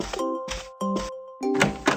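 Cartoon doorbell in a children's show ringing several times, bright tonal chimes separated by short pauses, close and clear with no talk.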